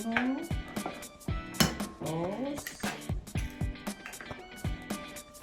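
Five eggs cracked one after another into a bowl for a mushroom, bacon and onion quiche, sharp close taps and clinks against the bowl in a quick series, with a voice in the background.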